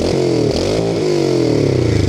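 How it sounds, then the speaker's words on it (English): Engine of a 2001 Honda Shadow Bobber motorcycle revved high, a loud close throaty roar that rises and falls in pitch over about two seconds. "And there was the high rev."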